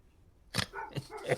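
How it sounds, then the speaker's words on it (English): Dogs barking outdoors, a few sharp, separate barks in quick succession after a quiet start, at moderate distance. "All I hear are dogs barking."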